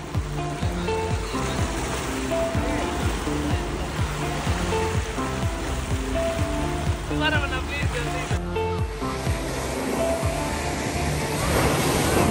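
Rain falls outdoors in Xiamen, China, as a dense, continuous hiss of drops filling the whole scene. It is loud and steady, with faint talk and passing traffic noise mixed in.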